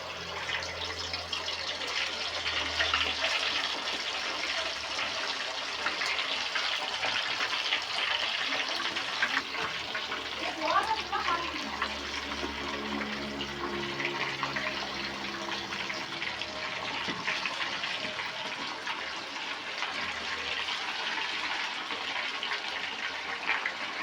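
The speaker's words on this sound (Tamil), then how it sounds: "இப்போ நம்ம சிக்கனை போட்டு பொரிச்சு எடுத்துக்கலாம்." Chicken for chicken 65 deep frying in hot oil, giving a steady, even bubbling hiss that holds at a constant level throughout with no talk.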